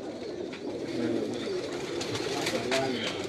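Indian Galve pigeons coo on a rooftop loft, giving low, soft, rolling calls that repeat over a light background murmur. The birds sound fairly close, and no one speaks.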